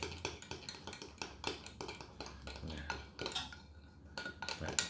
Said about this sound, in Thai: ผมก็ใส่ครีมเทียมเข้าไป นะสักสองช้อนนะครับสองช้อนโต๊ะนะครับ แล้วผมก็ คนให้ละลาย